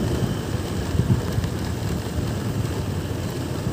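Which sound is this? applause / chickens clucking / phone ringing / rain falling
rain falling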